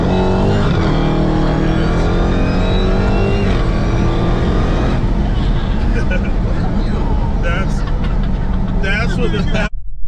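Dodge Hellcat with an 860 HP Stage 1 performance package accelerates hard, its loud, close engine roar climbing in pitch through several gears, with a voice talking over it.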